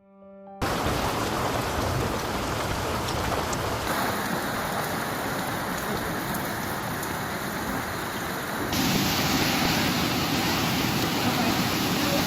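Heavy rain pours during a flood in southwest China, with floodwater risen to the door. The downpour is a dense, steady, loud hiss that swells near the end, and no one speaks over it.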